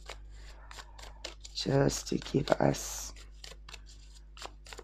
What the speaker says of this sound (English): And we'll shuffle for another one